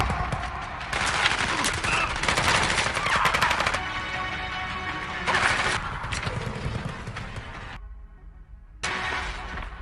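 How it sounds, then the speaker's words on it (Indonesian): A film gun battle on a hillside: loud, dense bursts of automatic gunfire in long stretches, with a brief quieter gap before the shooting resumes. "Baku tembak terjadi."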